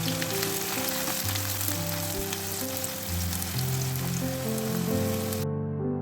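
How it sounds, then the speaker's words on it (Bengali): Sliced onions dropped into hot refined oil sizzle loudly and continuously, a dense close crackling hiss that fills the whole stretch before cutting off abruptly near the end, with no voices. "তেলটা গরম হয়ে গেছে, পেঁয়াজগুলো আমি ছেড়ে দিলাম।"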